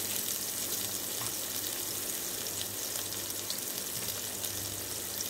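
Onion sizzles in a frying pan with a steady hiss and crackle that stays even and fairly quiet throughout, close up with no talking.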